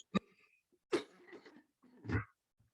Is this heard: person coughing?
yes